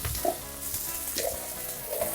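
Carrot, chilli and other vegetables sizzle in hot oil for Manchurian, a steady soft frying hiss broken by a few light stirring clanks.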